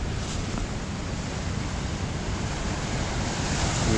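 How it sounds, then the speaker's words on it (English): Ocean waves crash and roar continuously at the Glentana caves, a loud broadband surge mixed with wind buffeting the microphone. "Wow, look at these awesome waves."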